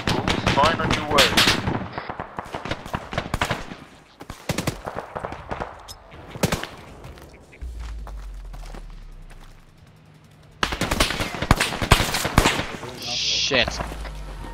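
A .50 caliber machine gun firing in a military shooter video game, rapid loud bursts of automatic fire with sharp cracks, pausing through a quieter stretch before another dense volley near the end.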